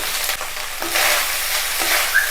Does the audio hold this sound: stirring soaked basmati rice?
yes